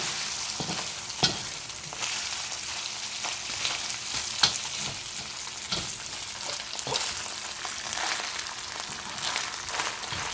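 Boiled rice and onions frying dry in oil for Thai pepper fried rice with crabmeat, a steady broadband sizzle throughout with a few sharp scrapes and clinks of stirring, close and fairly loud, no talk.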